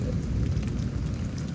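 Thunder from a lightning storm over Houston, Texas, rolling as a steady, continuous low roar under the hiss of rain, with no distinct crack, and no talk.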